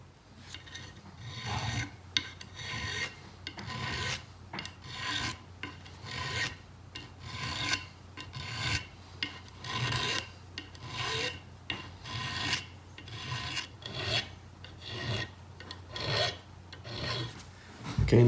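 A metal file rasps across the fret ends of a Telecaster Custom Shop-style guitar neck in steady, rhythmic back-and-forth strokes, close and clear with no talking.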